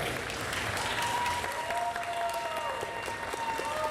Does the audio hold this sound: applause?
yes